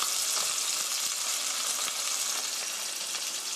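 Chicken steak fries in a pan with a dense, steady hiss and crackle of hot oil, close and even throughout, with no voices.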